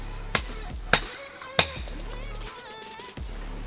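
Nails are hammered into wood while building a cabin: three sharp, ringing blows about half a second apart, then a softer fourth strike, close by and loud.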